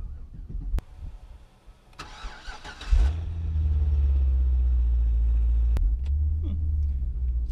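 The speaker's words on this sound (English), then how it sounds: "So we start this thing up, and as you can tell, it's pretty quiet." A 2011 Cadillac CTS-V fires up: a short cranking whir catches into a low, steady idle rumble that stays fairly quiet and smooth, with a couple of sharp clicks around it and no talking.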